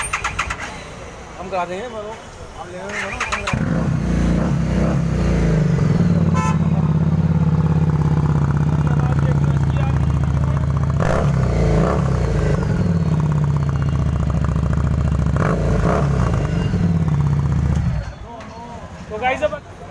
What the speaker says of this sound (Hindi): तो एक बार इसे स्टार्ट करके देखते हैं गाइस इसमें कैसी आवाज़ है